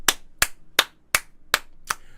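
Six sharp, evenly spaced hand claps ring out alone, close and crisp, each a distinct snap with a short decay before the next.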